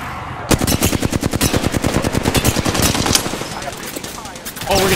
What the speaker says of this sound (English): Oh, we're getting shot from another team.